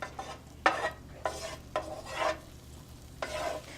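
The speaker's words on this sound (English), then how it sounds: "We're going to mix up our scallions for a bit just so they can get nice and soft." A utensil stirs scallions softening in hot oil in a pan, with a few quiet, separate scraping strokes over a faint background sizzle.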